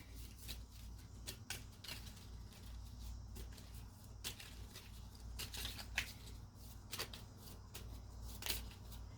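A deck of affirmation cards is shuffled by hand for a tarot reading. Soft, close riffles and flicks come in irregular bursts over a quiet background, without talk.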